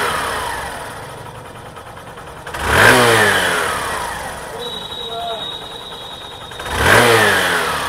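Hero Super Splendor BS6 motorcycle engine idling during an RPM check, with two sharp throttle blips that rise and fall a few seconds apart over a steady, close idle.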